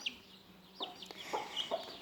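Hens and small chicks cluck and peep close by, soft scattered chirps and short clucks coming in quick bursts over a quiet farmyard background.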